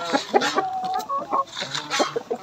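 Hens clucking close by as they peck at a feed of millet and grain, a busy overlapping run of short clucks and squawks with no speech.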